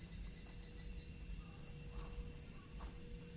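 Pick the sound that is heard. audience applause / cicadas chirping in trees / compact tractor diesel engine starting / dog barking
cicadas chirping in trees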